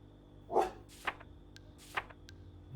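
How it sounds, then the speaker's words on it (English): A dog barks in short, separate yips, one stronger bark followed by two lighter ones, fairly close and with no talk over them. "Dog, can you please not woof?"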